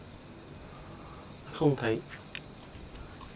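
Cicadas in trees in Japan, a constant high, shrill buzz droning through the whole stretch, with a brief spoken voice close by in the middle.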